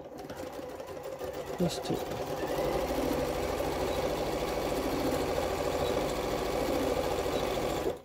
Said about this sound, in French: on va faire une petite couture. Une petite couture ici.